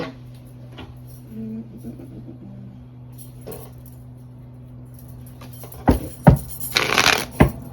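A deck of cards is shuffled: quiet ticks and shuffles at first, then several quick, crisp riffles close by toward the end.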